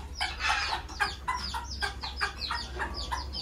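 A hen clucks repeatedly to call her chicks in a farmyard, a steady run of close, rhythmic clucks over a low background hum, with no talking.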